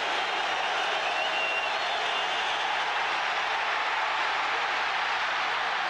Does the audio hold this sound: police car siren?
no